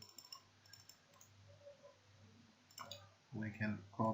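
Keyboard typing and mouse clicking on a computer while working in the Windows command prompt, light scattered clicks near the start, then louder dense key clatter toward the end over a faint steady hum.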